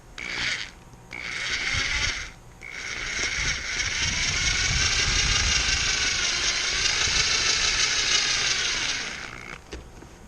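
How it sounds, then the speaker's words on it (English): A screw is driven and self-taps into plastic to hold vinyl on a Yamaha Virago XV920 cafe racer seat, a near whirring, grinding buzz in two short bursts followed by one long sustained run. "it'll kind of self-tap itself into the plastic, hold that vinyl in place"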